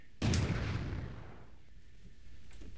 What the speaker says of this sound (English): I am in the process of inventing a device that suppresses the sound of a gunshot. Well, it's not working.